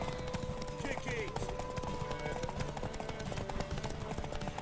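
Horse galloping in The Witcher 3, a rapid, steady clip-clop of hooves heard throughout, with game music and voices over it.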